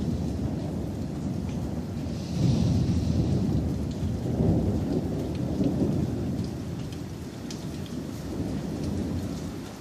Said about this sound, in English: You can still hear like all the drops dripping, but the rain's actually mostly done.